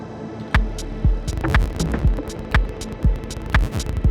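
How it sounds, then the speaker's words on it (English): Deep ambient house track made on an Elektron Digitakt, with a punchy low kick pulsing steadily under a humming pad and clicky percussive hits smeared by a MIDI-modulated delay, playing alone and fairly loud. "also this track is using the delay, which is once more modulated by the MIDI tracks"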